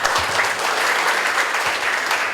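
Steady applause from a conference audience at a leadership forum in Bandung, dense continuous clapping holding at an even level throughout with no voices over it.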